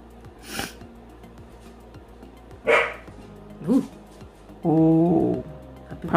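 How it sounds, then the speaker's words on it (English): A puppy gives a few short, soft boofing barks, isolated with pauses between them, the last one a slightly longer, tonal yip, set against a quiet indoor background. "Puppy boof."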